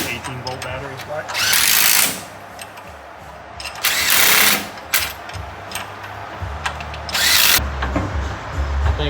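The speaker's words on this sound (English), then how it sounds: "Want an impact for that? Cordless impact?" A cordless 18-volt impact driver fires in three or four loud, harsh bursts of a couple of seconds each, close by, while people talk in between and underneath during gear work on a turbo mail Jeep.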